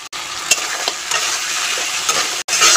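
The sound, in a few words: king crab frying and being stirred in spice masala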